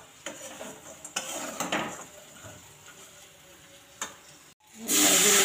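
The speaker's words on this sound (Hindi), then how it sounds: "मैं बना रही हूँ मैगी अनवी के लंच के लिए।" Pots and utensils clink and scrape in a home kitchen while Maggi noodles cook: a few sharp metallic knocks and stirring sounds, then a loud hiss toward the end.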